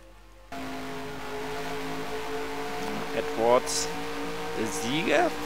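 Stock race car in a NASCAR video game at Kansas, its engine droning steadily at moderate volume and climbing in pitch under acceleration, with someone talking over it.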